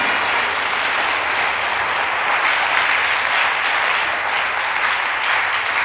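A congregation at a church sermon applauds in a dense, steady wash of clapping that holds at an even level for several seconds, with no talk over it.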